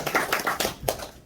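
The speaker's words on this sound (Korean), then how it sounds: "박수 한번 더 크게 볼까요?" A forum audience claps in a brief, moderately loud burst of scattered hand claps.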